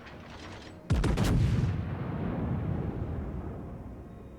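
Battleship Nagato's main guns fire in World of Warships, one loud booming salvo of close, stacked blasts, followed by a long rumbling decay.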